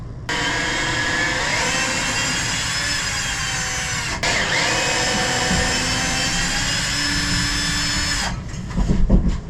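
A power drill runs steadily in reverse, backing screws out of a wall while hanging a mount for e-scooters, with a brief pause midway and a few clunks at the end; loud and close, with no speech.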